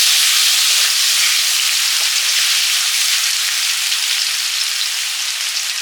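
A ground paste of mustard seed and dried red chili hits hot oil in a frying pan with fish curry on the go, giving a loud, steady, close hiss of sizzling that runs unbroken and thins slightly toward the end.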